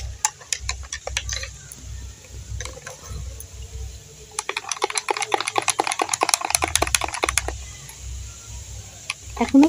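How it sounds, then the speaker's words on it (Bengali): A spoon stirs sugar into water for a homemade cold drink, making a quick run of light clinking ticks against the glass that grows denser midway, with a low voice talking underneath. "চিনিটা ভালোভাবে মিশিয়ে নিচ্ছি।"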